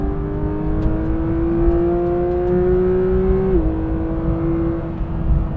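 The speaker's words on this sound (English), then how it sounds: "let that naturally aspirated 4-litre flat 6 sing" A Porsche 911 GT3 with a naturally aspirated 4-litre flat-six revs hard on a track, a loud, steady high-pitched engine wail that rises, dips briefly after a gearchange, and carries on throughout with no talk.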